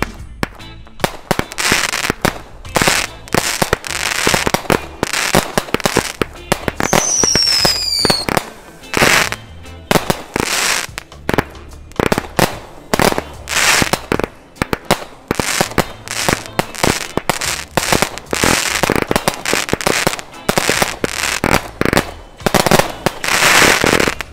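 A long barrage of rapid, loud bangs and crackles from a firework cake in quick succession, with a brief whistling rise partway through.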